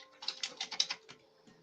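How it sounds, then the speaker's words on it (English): A brief flurry of light metallic jingling, like keys being rattled, comes over a phone call on a live call-in show, a quick cluster of clicks that fades out. "Sound like somebody rattling some keys and like a baby's rattling keys."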